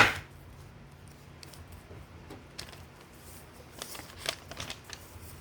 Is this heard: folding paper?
yes